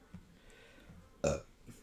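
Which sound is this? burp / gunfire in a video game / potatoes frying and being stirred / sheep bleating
burp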